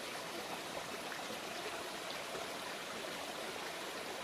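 River water rushes steadily over rocks near a waterfall on a mountain hike at Mt. Tanawan, a broad continuous hiss, fairly quiet and even with no talking.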